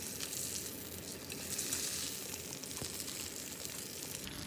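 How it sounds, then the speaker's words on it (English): A steak sears in a hot pan with loud, continuous sizzling and spitting, close up and steady for the whole stretch, with no voices. "we only sear for 30 seconds on each side"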